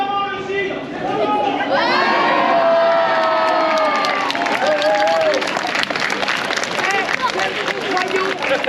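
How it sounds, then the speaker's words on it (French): An audience at a medieval festival show in Guérande cheers, shouts and claps loudly. The sustained crowd noise is led by rising whoops early on, then continues as dense applause with scattered yells throughout. "vous l'avez applaudi, vous nous avez hués"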